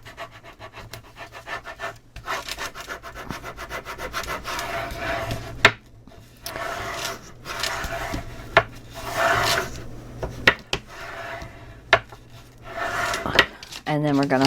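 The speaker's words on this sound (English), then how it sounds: "And then you're going to burnish." A paper album cover is burnished with repeated rasping, rubbing strokes, close and moderately loud, with a few sharp taps between passes and little speech.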